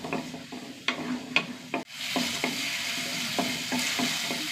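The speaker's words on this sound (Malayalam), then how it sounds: "ഉള്ളിയും തക്കാളി ചെറുതായിട്ട് വഴണ്ട് വരട്ടെ" Onion and tomato sauté in a pan, a steady soft sizzle with repeated scraping stirs of a spoon at an uneven rhythm, close and fairly quiet.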